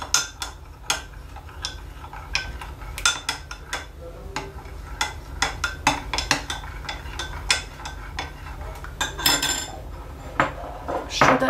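Soap mixture with added fragrance being stirred in a container, a series of close, irregular clinks and taps against the sides, with faint background noise throughout.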